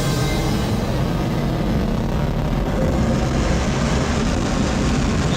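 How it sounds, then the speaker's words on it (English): Starship rocket engines firing during a landing burn, a steady, loud, broadband roar that holds at an even level throughout with no voices over it. "Landing burn startup."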